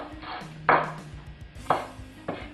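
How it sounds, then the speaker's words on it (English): A knife chops scallions at an angle on a cutting board for vegetable Manchurian, giving three distinct sharp thuds spaced apart, close and fairly loud, with no talking. "Cut them in an angle."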